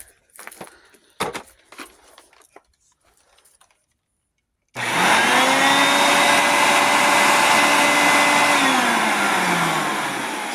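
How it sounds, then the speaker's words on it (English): A bagged upright Hoover vacuum cleaner switches on abruptly after a stretch of quiet handling clatter, then runs loud and steady with a whining motor tone that dips slightly toward the end. "Okay, plugged in."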